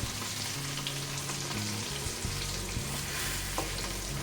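Potatoes cook in a frying pan for a fasting-day barnyard millet upma, with a continuous soft sizzle, light stirring, a low hum underneath and no voices.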